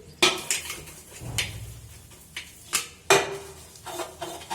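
Dishes, pots and pans clank at a kitchen sink during washing up, with several sharp, close metallic knocks and scrapes at irregular intervals and a brief rush of running water between them.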